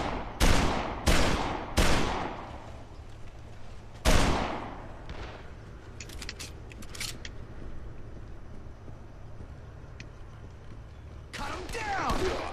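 Assault rifle fire in the zombie game Dead Island, several loud close shots in quick succession at the start, then quieter scattered game sounds and distant pops.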